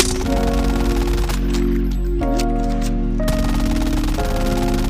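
Rapid automatic gunfire with recoil in a mobile shooter video game, a loud continuous burst of shots with a steady mechanical rhythm and no talk.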